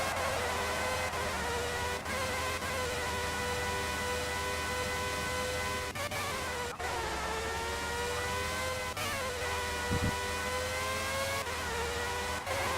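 A Formula 1 car engine in F1 97 revving high and steady, with several quick pitch drops as it shifts up through the gears, loud and continuous throughout.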